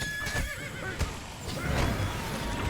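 Horses in the Age of Conan video game whinny loudly in a couple of sharp neighs with clip-clopping hooves underneath, close and clear against a busy game soundscape.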